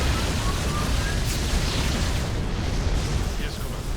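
Yamato cannon blasts from the StarCraft II campaign mission Maw of the Void, a dense, continuous roar of explosive booms and rumbling impacts, loud and sustained with a player's voice mixed underneath.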